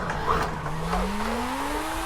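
A drift-built car in Forza Horizon 5 slides through a drift section with a sustained tire squeal and a rising engine whine, loud and continuous, no talk.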